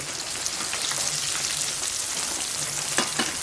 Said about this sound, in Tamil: மீன் பொரிச்சு எடுத்துகிட்டு இருக்கிறேன்